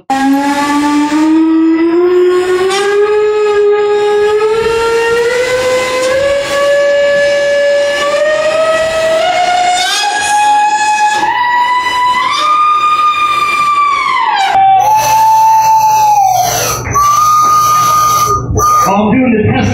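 A long sustained whistle-like tone, apparently a voice imitating a steam locomotive whistle, glides steadily upward in pitch for about fifteen seconds, then wavers and breaks into shorter held notes, loud and close.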